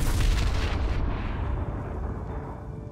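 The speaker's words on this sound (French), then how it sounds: "il a repoussé Lysa d'un coup de pied et s'est fait exploser avec Il" A deep, rumbling explosion sound effect from an animated story plays loud and close at once, then fades slowly into a lingering low roar with no voices over it.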